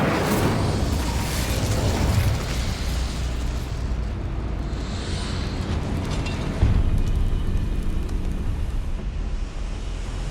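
In the video game Hogwarts Legacy, the Incendio fire spell erupts in a loud whooshing, roaring burst of flame that rumbles steadily for several seconds, with a second surge partway through.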